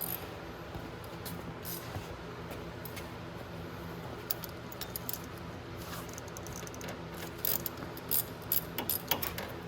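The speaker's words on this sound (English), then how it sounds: "I'm gonna grab a bigger ratchet" A ratchet wrench works on the front wheel hub of a Venom 125cc mini jeep, with quiet clicking and metallic ticks over a soft background hum, growing sharper and louder near the end.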